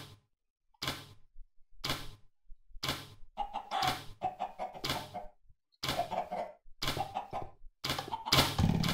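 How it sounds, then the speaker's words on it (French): A video game chicken clucks repeatedly in short bursts separated by brief pauses, fairly close and clear with no talking. "Alors voilà, une poule."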